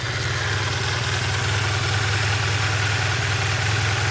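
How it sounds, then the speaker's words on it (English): A 1986 Honda VF500F V4 motorcycle engine idles steadily and close by, a smooth, even low throb with no revving and no voices. "the motor's nice and smooth"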